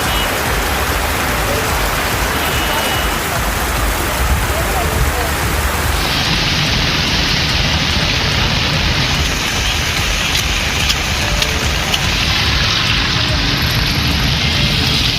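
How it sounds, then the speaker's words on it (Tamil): Heavy rain pours steadily and loudly in Kodaikanal, a dense continuous hiss of rainfall with a noticeable shift in tone partway through, while a voice speaks over it. "கொடைக்கானல் மற்றும் அதன் சுற்றுவட்டார பகுதிகளில் 1 மணி நேரத்திற்கு மேலாக கனமழை பெய்தது"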